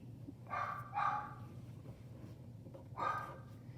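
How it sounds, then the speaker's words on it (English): A dog barks in the background of a quiet room, three or four distinct, moderately faint barks spaced out over a few seconds with a steady low hum underneath. "you get to listen to the dog bark in the background"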